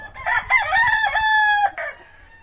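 A gamecock rooster crows once, loud and close, a drawn-out call lasting about two seconds with a short break near the end.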